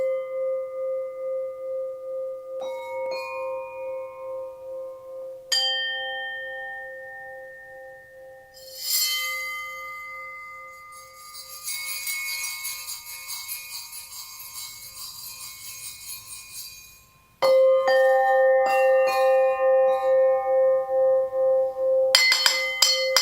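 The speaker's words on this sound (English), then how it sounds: "Alu bells." Aluminium bells played one at a time, each clear ringing strike sustaining and fading, some notes overlapping into shimmering clusters, then a final bright sustained tone with rapid repeated taps, all close and without speech.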